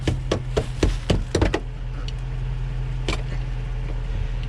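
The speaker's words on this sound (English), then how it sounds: "I'm using my extension breaker bar to try to roll this back up in here so I don't cut my tire" Extension breaker bar striking a vehicle's fender lip to roll it back over a large tire: a quick run of sharp metallic knocks in the first two seconds, then one more hit, over a steady low hum.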